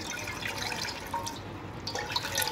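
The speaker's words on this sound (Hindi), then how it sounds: "चूल्हे पे एक बर्तन रख लें और उसमें शामिल करूँगी 2 कप के करीब पानी" About two cups of water pour from a container into a cooking pot set on a stove, making a steady splashing trickle that fills the whole moment with no talking.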